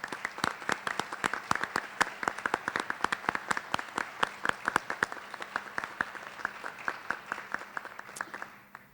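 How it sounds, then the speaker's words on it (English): An audience at a community awards night applauds steadily for several seconds with many sharp overlapping claps at moderate distance, then tapers off at the end. "please stand for a welcome and a round of applause"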